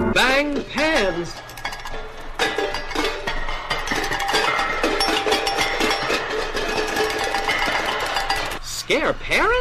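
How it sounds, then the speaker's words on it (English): Metal pots and pans banged and clattered together in a dense, continuous din of clinks and clanks, with vocal cries mixed in at the start and end. "Bang pans."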